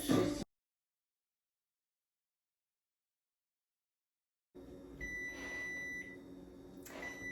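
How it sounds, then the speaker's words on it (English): An oven timer beeps in a kitchen after a short burst of noise and a long silent gap, with a few clear electronic beeps over light room hum while pies bake. "So now that the timer has gone off, we are going to turn the preheat to 325"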